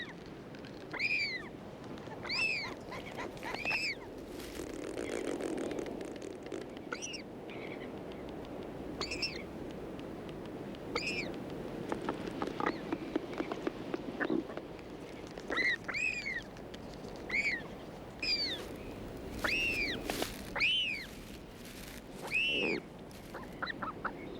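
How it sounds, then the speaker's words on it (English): An albatross chick begs for food as a parent arrives with a meal, giving repeated high, rising calls in short bursts over a steady background of wind or surf, with no talk. "He's quickly responsive to the chick's begging."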